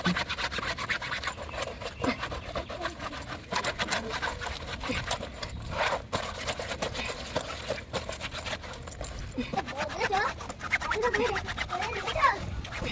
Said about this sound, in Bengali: এমনি স্কচ ব্রাইট দিয়ে আস্তে আস্তে ঘষে নিচ্ছিলাম